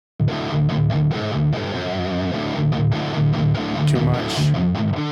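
An electric guitar through an Uberschall amp with the distortion turned up too far, chugging loud heavily saturated riffs with rhythmic palm-muted bursts and short pauses, played alone.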